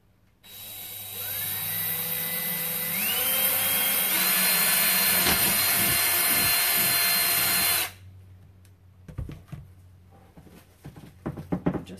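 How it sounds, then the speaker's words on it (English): A power drill runs steadily for about seven seconds while drilling into a cake structure, loud and close with shifting pitch as the load changes, then cuts off, followed by light handling clatter. "And then we're going to drill it. And this will get a little bit noisy"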